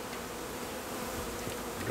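Honeybees from a package hum in a steady, dense buzz around hive frames in a bee yard, with no voices.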